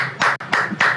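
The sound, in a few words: hand clapping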